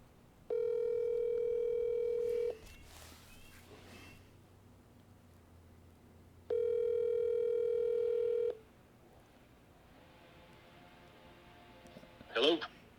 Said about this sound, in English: Let me see if I can get him on the phone.